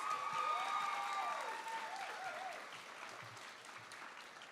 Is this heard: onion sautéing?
no